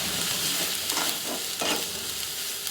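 Moong curry with turmeric and homemade masala is stirred in a hot pan, a close, steady sizzle of frying broken by a few scraping stirs, with no talk.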